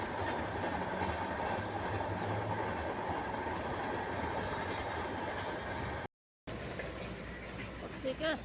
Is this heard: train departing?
yes